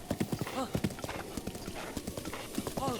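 A horse in Zelda: Breath of the Wild clip-clops at a slow walk through a village, with steady close hoofbeats and a brief whinny, all heard under someone talking.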